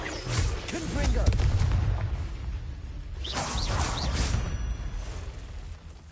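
Confringo fire spell blasts in Hogwarts Legacy, with booming impacts and whooshing bursts in two clusters amid game background noise.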